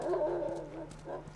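A dog in The Last of Us video game gives a brief whimpering, whining call, soft and close, lasting just over a second with no talk over it.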